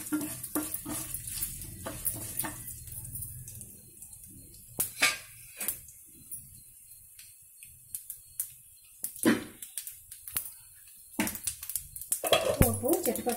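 Chana dal and garlic spluttering in hot oil as a tempering, with bursts of crackling and pops against quieter stretches and a few utensil clinks, growing busier toward the end.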